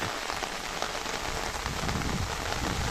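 Steady, dense downpour of heavy monsoon rain drumming on a surface on the Bhagamandala–Madikeri road in Kodagu, loud and continuous throughout with no voices.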